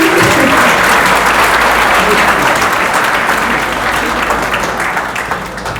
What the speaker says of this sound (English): Another round of applause for those beautiful words.